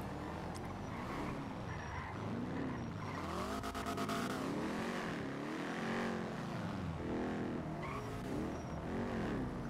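A car drives in the GTA V NoPixel roleplay game, a loud, continuous engine note rising and falling through repeated revs, with tire squeals and a busy, dense mix throughout.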